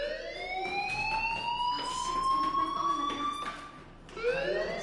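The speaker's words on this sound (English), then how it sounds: "do you hear that fire alarm?" A fire alarm in Life is Strange wails loudly with rising, sweeping electronic tones, pausing briefly before starting another rising cycle.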